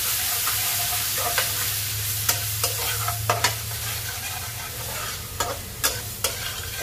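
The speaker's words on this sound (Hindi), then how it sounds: "ये हमारा मसाला जो है वो धीमी धीमी आंच पे भून रहा है" Tomato masala roasting on a low flame gives off a continuous close sizzle, while a spoon stirs and taps the pan in irregular strokes, with no voices present.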